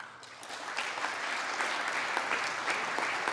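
Audience applause during a Joe Biden speech about bringing troops home after 20 years, a steady wash of clapping from a large crowd with no pauses.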